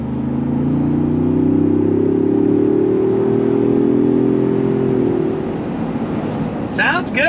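2025 Ford Bronco Stroppe Edition engine revving with a smooth, loud, rising tone that holds for about five seconds, then drops off into rattling and handling noise.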